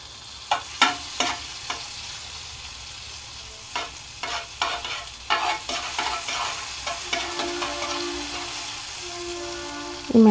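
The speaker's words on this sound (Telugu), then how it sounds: "వేడిగా ఉన్న పాన్లో మనం కొంచెంగా బటర్ వేసుకుందాం. బటర్ మెల్ట్ అవుతుంది చూసారా." Butter melts in a hot pan, hissing softly under a series of sharp scraping stirs and spatula taps that come in irregular bursts, close and clear, with a brief louder clatter at the end.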